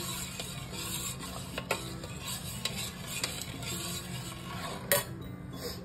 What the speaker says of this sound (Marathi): हे चांगलं मिक्स करून घ्यायचं.